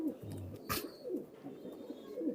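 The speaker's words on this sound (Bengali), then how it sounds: "সুন্দর কবুতর" Teddy pigeons imported from Oman give faint, low, throaty coos repeated every second or so against a quiet background, with one brief sharp noise early on.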